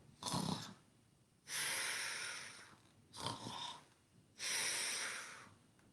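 A person imitates snoring: four long, rasping breaths alternating in-and-out, with short pauses between, close and fairly loud.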